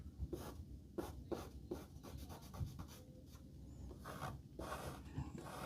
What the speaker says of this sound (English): Take the palette knife. Let's form that foreground.